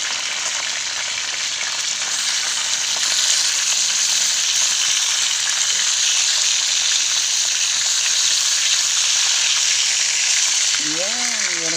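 Food frying in hot oil in a home kitchen, with a loud, steady crackling sizzle and spattering throughout and a faint voice briefly near the end.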